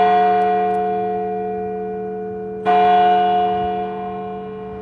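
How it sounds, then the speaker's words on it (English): A real church bell tolls loudly and near. There are two strikes a few seconds apart, each leaving a long, ringing hum that slowly fades. "That's a real bell. That's pretty cool."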